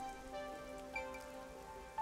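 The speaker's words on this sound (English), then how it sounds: "I'm starting to feel like the rain isn't so bad." Steady rain falls in the video game Master Detective Archives: Rain Code, a soft even hiss with faint tonal game music running underneath throughout.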